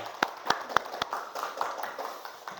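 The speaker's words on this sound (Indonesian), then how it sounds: "tepuk tangan dulu buat kelompok 4" A few sharp, separate claps at first, then lighter scattered clapping from a small audience in a classroom group presentation, fairly quiet and brief.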